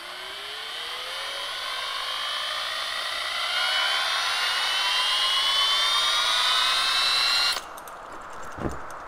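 A bicycle wheel set spinning on a turntable gives a loud, whirring whine that climbs steadily in pitch as it speeds up. It cuts off abruptly near the end, followed by a brief thump.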